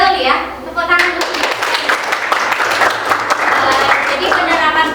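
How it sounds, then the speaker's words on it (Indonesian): Students in a classroom applaud in a burst of scattered clapping, with children's voices and the teacher's talk mixed in. "Tepuk tangan dulu."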